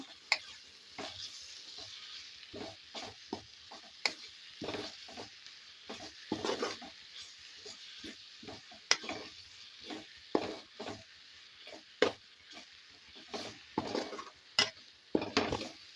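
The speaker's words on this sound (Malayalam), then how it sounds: "നല്ലപോലെ പച്ചമണം ഒന്ന് മാറി വരുന്ന വരെ ഇളക്കി കൊടുക്കുക" Spices, ground pepper and masala for pepper chicken are stirred in a pan with a spoon, giving repeated scraping strokes in an uneven rhythm over a soft, steady sizzle, close up with no talking.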